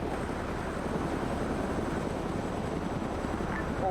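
Steady, loud rotor and engine roar of a video game helicopter lifting off, a continuous whir with no voices, holding constant throughout.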